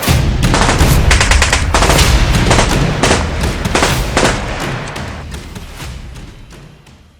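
Sustained, rapid bursts of machine gun fire rattle on loudly for several seconds, gradually fading toward the end.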